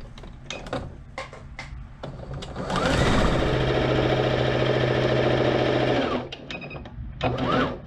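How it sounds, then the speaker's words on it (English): A sewing machine stitches a half-inch hem along the long edge of fabric for a child's scrunchie, a steady close whirring run of about three seconds framed by short handling clicks and rustles before and after. "I'm going to sew along the longest edge of it."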